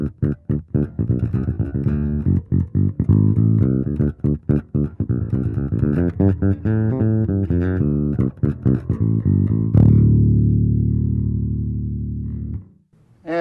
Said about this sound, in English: This is a sound of a popular jazz artist with the jazz bass sound in the back position.